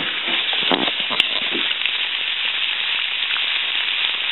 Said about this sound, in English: I just dropped this cold bacon out of the refrigerator into this pan, which I didn't even preheat